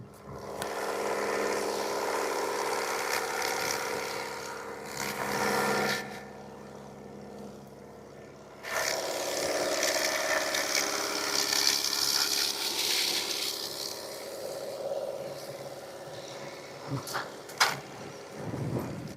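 A tractor engine runs in a rural canyon area with a steady, rough mechanical drone that drops out briefly and then resumes, moderately loud, with a few sharp knocks near the end.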